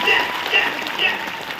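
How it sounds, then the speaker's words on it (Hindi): An audience at an event breaks into brief, lively applause: a dense patter of many hands that swells in two or three small surges and holds steady to the end. "तो एक बार स्वाति जी के लिए जबरदस्त वाली ताली होनी चाहिए।"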